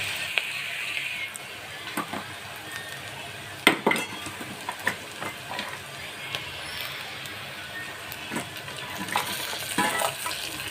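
Dried mutton pieces fry in a pan for a garlic dry mutton curry, with a soft steady sizzle broken by scattered metallic clinks and scrapes of a stirring utensil.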